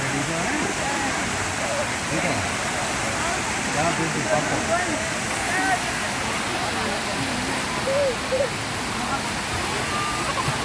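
Waterfall at Ananthagiri Hills in Vikarabad, a steady broad rush of falling water filling the scene, with faint voices of people enjoying themselves scattered underneath.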